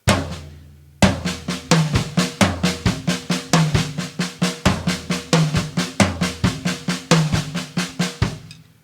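Accented single strokes moved around a drum kit, a fast continuous run of hits shifting between drums of different pitch, louder accents punching through the pattern, close and unaccompanied after a short ringing start.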